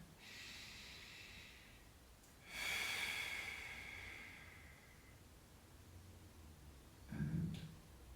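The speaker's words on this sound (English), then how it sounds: "And again, nice deep breath." A deep breath taken during a lacrosse-ball self-massage of a tight neck and shoulders: a hissy inhale rises around the third second and fades slowly, with a short snort-like exhale near the end, close and quiet.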